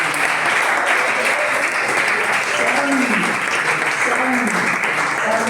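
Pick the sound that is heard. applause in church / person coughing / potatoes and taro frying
applause in church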